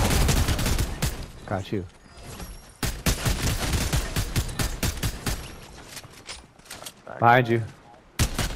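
Rapid bursts of gunfire from a Fortnite match crackle loud and dense through most of the stretch, with short pauses, while players talk over it.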